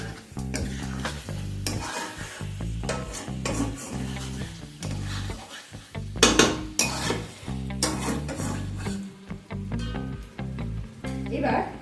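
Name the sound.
stirring chicken thecha masala in a pan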